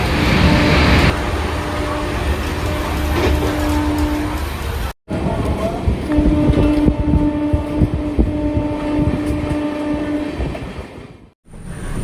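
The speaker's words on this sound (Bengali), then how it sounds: "আমাদের ট্রেন 165 কিলোমিটার দূরত্ব অতিক্রম করে এসে পৌঁছলো পশ্চিমবঙ্গের মধ্যে প্রথম স্টপেজ দুর্গাপুর" An Amrit Bharat superfast express on the Sealdah–Banaras route runs along the rails at night, giving a loud, continuous rumble with rhythmic wheel clatter and a steady tonal hum, broken by two brief dropouts.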